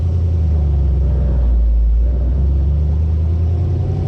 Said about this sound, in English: Do the drive portion of the video here on our 60 Corvette.